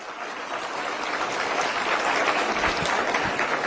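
An audience at a Delhi government event breaks into applause that swells from moderate to fuller clapping and holds steady, with a few low thumps near the end.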